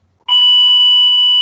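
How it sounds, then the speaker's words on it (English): An electronic bell rings out loud and close, a sudden sustained tone that starts after a brief silence and holds steady. "there's the bell again"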